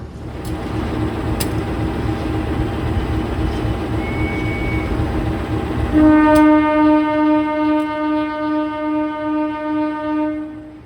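Kahuripan passenger train at Madiun station, a steady rumble of rail noise joined midway by a loud sustained horn-like tone with strong harmonics that holds for several seconds.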